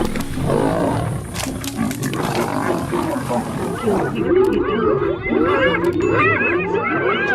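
An adult male lion roaring in the African wild, a deep, rough roar that rises over a busy outdoor background, with fainter calls and a voice sometimes heard under it.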